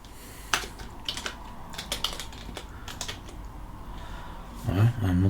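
Fingers type on a computer keyboard while building a Crystal Linux ISO, an irregular patter of close key clicks with brief pauses, ending in a soft murmur of speech.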